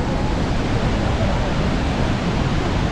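Steady loud rushing of a mountain river tumbling over rocks near Mana village, a continuous broadband roar with no breaks, close and unchanging, carried on cold wind.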